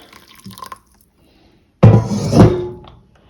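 Water poured into a tea infuser for homemade cold and flu tea: after a quiet stretch with a few faint clinks, a close, splashy pour lasting about a second trickles away.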